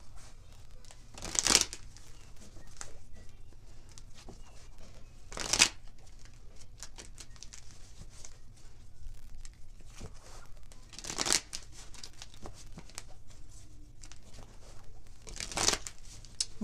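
A deck of tarot cards is shuffled in four separate bursts about four seconds apart, each a crisp riffling flutter, close and clear over quiet room hiss.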